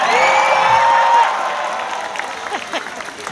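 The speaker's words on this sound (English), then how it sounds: "Give a good applause for them." A hall audience applauds a performing group, a loud dense clapping burst that fades after about a second into lighter, scattered claps, with faint crowd murmur and a sustained tonal sound at the start.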